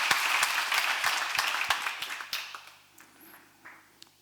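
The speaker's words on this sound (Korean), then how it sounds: "박수하세요" A church congregation breaks into brisk applause, many hands clapping close by at first, then thinning into scattered claps that fade out toward the end.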